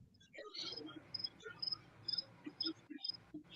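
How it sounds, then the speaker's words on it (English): Crickets chirp in short, repeated high trills at a steady pulse, faint and fairly close, over a low murmur of room sound. "I hear the crickets."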